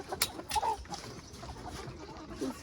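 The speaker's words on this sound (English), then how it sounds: "Good morning, chickens." Chickens in a backyard coop make soft clucks and short calls at close range over faint background rustling.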